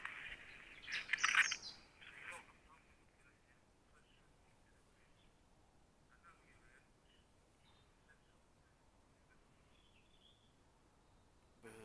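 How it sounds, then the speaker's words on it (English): Birdsong chirps briefly near the start, fairly close, then fades to a quiet, faint background for the rest. "Do you love listening to the birds sing?"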